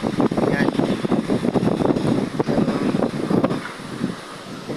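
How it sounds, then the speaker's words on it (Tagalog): Strong typhoon wind buffets the microphone with steady roaring gusts while big waves churn and crash nearby, a continuous loud rush of wind and surf throughout. "Sobrang lakas ng hangin tapos malaking alon"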